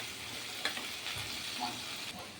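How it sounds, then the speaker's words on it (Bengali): Tomato fries with ginger-garlic paste in a pan of oil, a steady close hiss of sizzling with a few light scrapes and taps of a spatula stirring through it. "টমেটোটা আদা রসুনের সাথে ভালোভাবে ভেজে নেব।"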